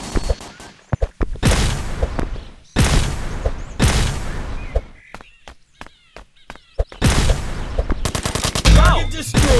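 Assault rifle fire in the Jack Street video game comes in loud, close bursts of rapid shots separated by brief gaps, with a few single cracks between the volleys.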